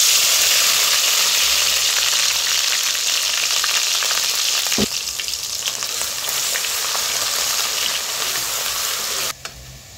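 Ground masala paste of garlic and roasted coconut fries in hot oil in a pan for black chickpea curry, a loud steady sizzle with a brief stir or clatter midway.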